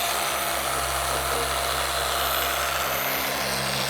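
A power polisher spreads Griot's Fine Glass Polish across a car window at speed 5 to remove hard water spots and etching, producing a continuous, even motor whine that stays loud and close with no talk.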